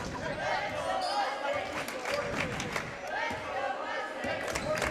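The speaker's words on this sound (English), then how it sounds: "Mustang crowd starting to get into it, trying to inspire their guys" Mustang home fans at a varsity men's high school basketball game, a steady roar of crowd noise and cheering that holds throughout, with an announcer talking over it.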